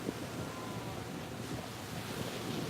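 Steady wind blows outdoors, rumbling against the microphone as a continuous broadband roar with gusty swells throughout, no talking.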